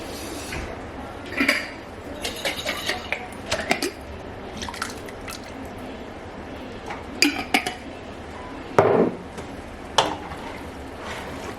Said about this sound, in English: Get it a good little stir